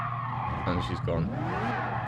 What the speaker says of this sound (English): as soon as they slide across the track like that